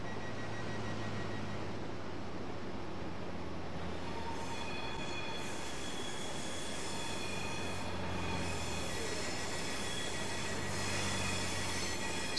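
A Class 444 electric train in Train Simulator 2016 runs steadily at slow speed, giving a continuous rolling rumble and broadband hiss with faint whining tones and no voices.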